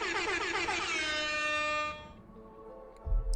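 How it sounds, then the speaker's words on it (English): Loud air horn blast used as a jump scare in the video game Five Nights at Freddy's: Ultimate Custom Night, a blaring harmonic tone held for about two seconds before cutting off, followed by a low thump. "he jump scares the player using an air horn"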